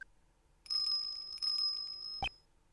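A dog's collar bell from the Nintendo DS game Ace Attorney Investigations: Miles Edgeworth gives a bright, sustained electronic jingle lasting under two seconds, ending in a sharp chime.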